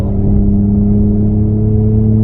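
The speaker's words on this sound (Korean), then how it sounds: "지금 풀엑셀로 좀 달려보는데 굉장히 속도가 빨라요" A Genesis G80 electric sedan in sport mode accelerates at full throttle, giving a steady loud interior whir and hum with a synthetic engine-like tone and road rumble underneath.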